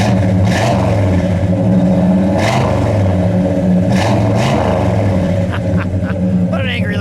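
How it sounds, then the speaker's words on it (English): A 1969 Pontiac GTO Judge with a 400 Ram Air III V8 and a four-speed is revved hard in three sharp blips over a deep, lumpy idle, close and loud. "Go ahead, Steve, give it a rev."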